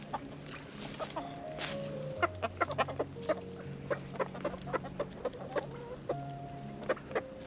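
Backyard chickens in a soggy winter garden clucking repeatedly, a series of short sharp clucks and calls over several seconds, fairly close, with some low murmuring beneath.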